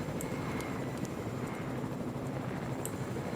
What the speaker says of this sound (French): quand vous êtes comme moi, vous allez hauteur max avec l'hélico